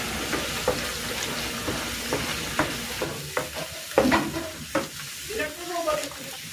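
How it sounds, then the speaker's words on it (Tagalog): Coconut cream fries in a pan while being stirred into latik, giving a soft, steady sizzle broken by repeated scraping strokes of a utensil at an uneven pace, heard up close at a fairly low level. "Lulutuin ko ito hanggang sa magmantika at mamuo yung latik."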